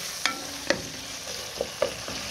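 Poplar mushroom stew with garlic stirred in a pan, a spoon scraping in a few distinct knocks over a steady low sizzle, close and alone with no talk.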